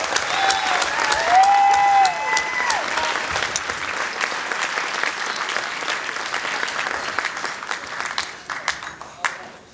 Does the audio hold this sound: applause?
yes